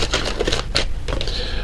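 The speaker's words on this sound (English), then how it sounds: "I'm not having a good time shuffling these today." Tarot cards from a love oracle deck being shuffled, a dense run of close, crisp papery riffles and soft slaps lasting the whole short moment, steady and fairly loud with no voice over it.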